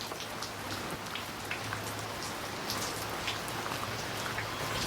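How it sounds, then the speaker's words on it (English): Rain falls steadily on a wet day, a constant soft patter with scattered sharper drips close by, holding an even level throughout without any voices. "It's a rainy day."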